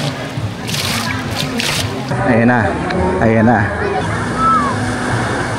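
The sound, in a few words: ocean waves at the beachfront, Boracay Island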